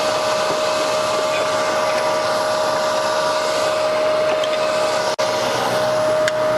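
Wood lathe spinning while a 1/2-inch spindle gouge cuts a bead, a steady, close motor whine with a sustained tone, a brief dropout near the end, and no speech.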